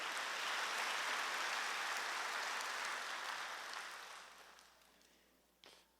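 A church congregation applauds during a sermon in a steady, dense wash of clapping. The applause fades gradually over several seconds, and a single brief knock comes near the end.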